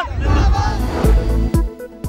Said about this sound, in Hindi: लाहौर के इलाके वॉल्टन में नारे तकबीर की गूंज। पाकिस्तान जिंदाबाद के नारे।